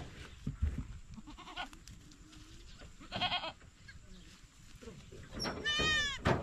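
Goats bleat on a rural farm in the Philippines. Several short cries come close to the recorder amid handling noise and people talking, and a louder wavering bleat arrives near the end.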